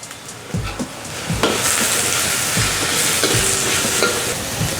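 Curry leaves crackle with leeks in hot oil in a pan for an egg dish, a loud, close sizzle that swells and holds while a utensil stirs with a few thumps early on.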